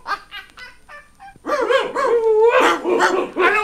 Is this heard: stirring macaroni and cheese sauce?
no